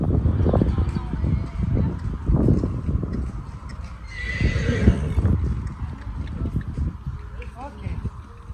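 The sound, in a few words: horse moving and whinnying during liberty circus training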